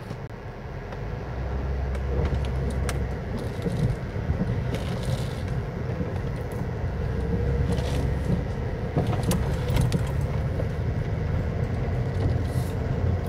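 A car drives up a road toward a cemetery in the foothills near Magna, Utah, a steady close engine and tire rumble heard from inside, with occasional light rattles and bumps.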